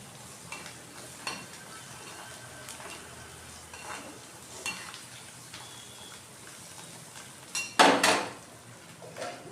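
A spoon scrapes and stirs firmly through raw mango curry in a metal pot, giving soft irregular scraping clatters that end in a sharper, louder clank near the end.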